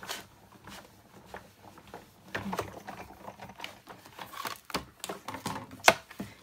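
Big Shot die-cutting machine cranking an embossing folder and cutting plate through, heard as irregular clicking and ratcheting with rubbing scrapes, moderately loud and close, a sharp click near the end, without talk.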